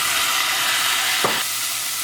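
Chopped tomatoes tipped into a hot pan for a Kerala moru curry, giving a steady close broadband sizzle with a brief stirring scrape partway through.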